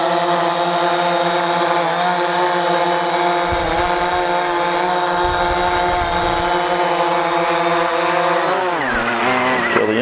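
A DJI Phantom 4 quadcopter's motors whine steadily and loud, close by, after landing, a constant buzzing tone that sags and winds down near the end.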